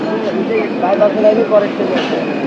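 A train rolls into Tangail station with a steady rumbling rail roar and faint wheel and carriage noise. Voices are heard faintly in the background.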